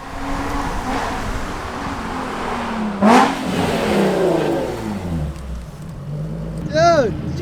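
A Honda Type R fitted with a new Blitz Nur-Spec exhaust pulls up, its engine revving and rising in pitch with a loud burst near the middle, over steady road rumble as it arrives.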